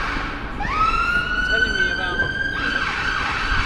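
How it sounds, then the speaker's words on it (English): An emergency vehicle siren on a London street near the cathedral, wailing loudly as it sweeps up in pitch and passes close by, with traffic noise underneath. "Once we get another siren come behind us."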